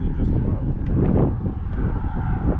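Steady wind blows over a small fishing boat on open water near a bridge, a continuous low rushing roar with buffeting against the microphone.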